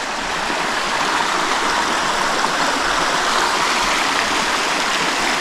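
A river stream rushes steadily after heavy rain, a loud, continuous broadband wash of flowing water with no breaks.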